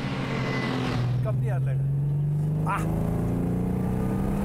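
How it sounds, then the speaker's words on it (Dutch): A Ford Capri RS2600 six-cylinder engine hums close by, its tone rising smoothly as it revs, while someone speaks over it. "Er is niet één auto die hetzelfde geluid heeft van 2600 Capri"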